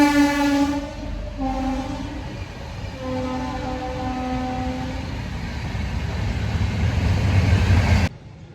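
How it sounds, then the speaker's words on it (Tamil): A passing train sounds its horn in several long, loud blasts over a heavy, steady rumble of rolling wagons that builds and stays close until it cuts off near the end. "இருங்க ட்ரெயின் போகுது"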